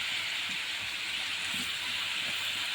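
Washed fried onions tipped into a hot pan while cooking a bhaji, giving a steady, even hiss that holds for the whole moment with faint clinks underneath.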